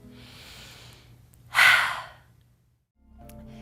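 Single loud, close exhale after a hard upper-back exercise, a breathy sigh lasting about half a second before quiet, with soft background noise around it.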